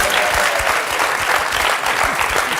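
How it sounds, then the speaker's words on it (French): A TV studio audience bursts into sustained, dense applause, many hands clapping close and loud in a steady wash with no pauses. "Ah, le public applaudit, mais on ne sait pas pourquoi."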